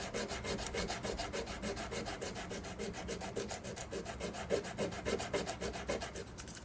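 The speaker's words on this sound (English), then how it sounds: "I'm sanding down the one that's even a little bit low" Steady rhythmic rubbing strokes of sandpaper on a guitar fret during fret leveling, a close, even back-and-forth scratch repeating at a brisk pace throughout with no talking.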